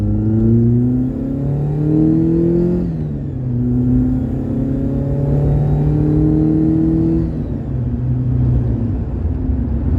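Mk2 Golf GTI with its 16-valve engine accelerating along a flat road, heard from inside the car: a loud, steady engine drone whose pitch climbs through the gears, dipping briefly at each shift, with no talking.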